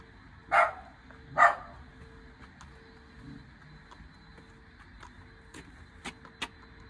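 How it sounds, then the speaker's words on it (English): Two distinct barks from a dog at moderate distance, followed by quieter ambience and a few faint clicks and taps. "Dogs."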